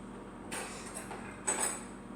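A spoon is picked up from among kitchenware during a stovetop oatmeal experiment, giving two brief, soft clattering rattles about a second apart in an otherwise quiet room.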